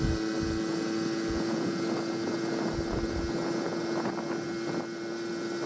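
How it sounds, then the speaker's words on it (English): A 1980 Honda Express moped, a revived barn find, labors uphill. Its engine holds a steady droning hum under constant wind rush. "You hear it four-stroking there."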